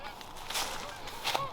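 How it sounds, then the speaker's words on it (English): Geese honk overhead in a few brief, faint calls, distant and airy against quiet outdoor background at a beaver-trapping site. "I have a bunch of geese flying over me right now"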